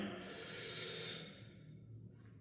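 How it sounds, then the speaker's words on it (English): One deep breath is drawn in through the nose as part of a bracing exercise, a close, airy inhale that fades after about a second into a quiet room. "take a deep breath in"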